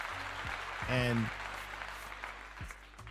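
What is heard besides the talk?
audience applause for Tracey Edmonds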